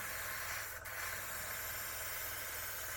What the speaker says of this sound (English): and then we just want to gently spray in now.